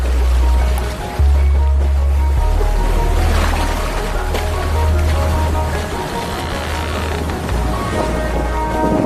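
A sailboat skims across open Pacific ocean water off Kiribati, with steady wind buffeting and deep rumbling gusts over continuous wash and splashing of waves along the hull, loud and close throughout.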